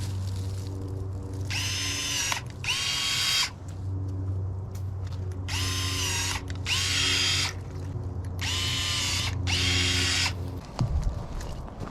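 Battery powered electric pruning shears cut cross branches on a pomegranate tree, giving six short high-pitched motor whirs in pairs, close and loud over a steady outdoor hum, with a sharp snip near the end.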